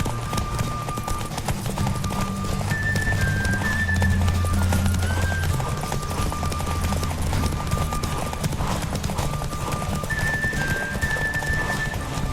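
Steady hoofbeats of a galloping horse in The Witcher 3: Wild Hunt under a bed of ambient noise and tonal game music, running continuously throughout.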